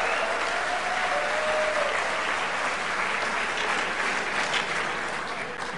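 An enthusiastic crowd at a campaign youth rally at the University of Iowa applauds in a dense, steady roar of clapping that fills the hall and holds at a loud, even level throughout.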